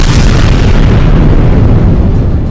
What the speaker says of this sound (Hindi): ताबड़तोड़ हमलों की वजह से वहां तेज धमाके होते दिखाई दिए